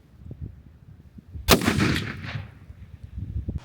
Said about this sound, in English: got done shooting guns